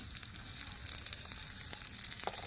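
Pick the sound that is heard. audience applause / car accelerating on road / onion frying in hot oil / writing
onion frying in hot oil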